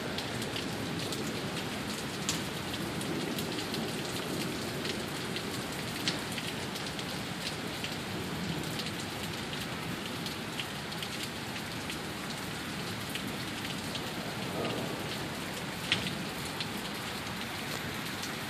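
A heavy downtown downpour in Sioux Falls roars on, dense and unbroken, with rain pounding close by at a constant loud level and no voices.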